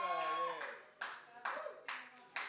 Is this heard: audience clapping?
yes